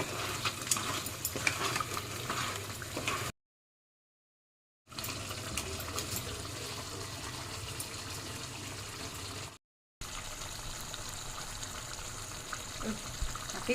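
Crab roast ingredients being stirred and mixed together, giving a steady wet, scraping stir in three stretches broken by short silent gaps, with no talking.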